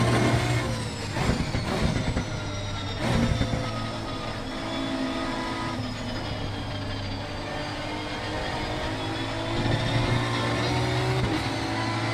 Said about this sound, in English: You hear the limiter hitting it.